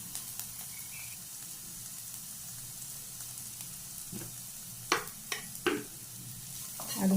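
Onions with curry leaves and salt being sautéd in a pan, with a low steady sizzle and a few sharp spatula clacks and scrapes near the end.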